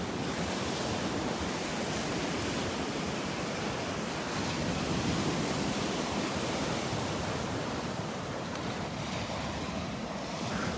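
Beach surf at Delnor-Wiggins Pass State Park in North Naples, Florida, on an overcast morning: a continuous broad wash of breaking waves, with some wind rumble on the microphone and no voices.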